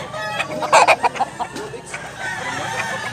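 Yellow-legged gamefowl cluck in short bursts with a brief rooster crowing note near the start, close by, over a busy farmyard background.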